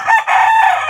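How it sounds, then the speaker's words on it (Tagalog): A rooster crows once, loud and close, a single sustained call lasting about a second with a brief break near the start. "Oh, di ba may manok ulit isa pang manok."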